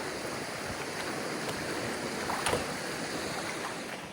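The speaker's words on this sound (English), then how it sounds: "there's fast water right there, right to my right" Fast-flowing water rushes through a canyon in a broad, steady wash of noise, close and constant with faint splashes rising briefly.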